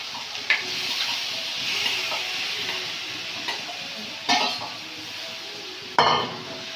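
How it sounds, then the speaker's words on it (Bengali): Potatoes and salted, turmeric-rubbed Bombay duck fish go into a pan of fried spice paste, giving a steady close sizzle with a few sharp clinks and splashes as the pieces drop in, and no talking. "এবারে আলুটা দিয়ে দেবো, আপনারা ভেজেও দিতে পারেন। দিয়ে দেবো লোটে মাছ"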